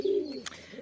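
Pigeon cooing close by, a single soft low throaty coo followed by a faint rustle.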